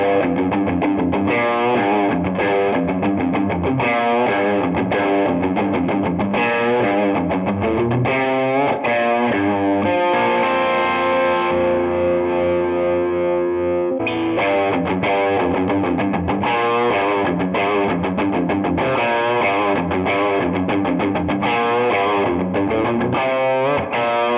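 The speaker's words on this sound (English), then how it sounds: "Now we're going to turn up the gain a little bit." A Patrick James Eggle Macon electric guitar with heavy high-gain distortion plays a driving riff with sustained chords in the middle, loud and saturated, with no voices.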